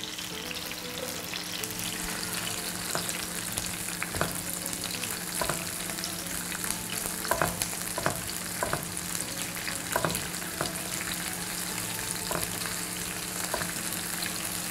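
Scallions and their leaves fry in hot oil until dark brown, still wet from washing so they pop; a dense continuous sizzle runs throughout with scattered sharp crackles and occasional stirring clicks, close and steady with no talking.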